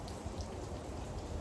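Faint, steady rain falls outdoors near a black boat, a soft, continuous hiss of drops with no other sounds.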